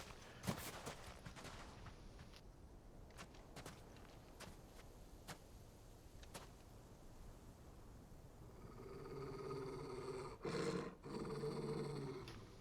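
Dog growling in the Final Fantasy XVI video game, a low rumbling snarl that builds and grows louder in the latter half, with scattered sharp footstep-like clicks earlier and game ambience beneath.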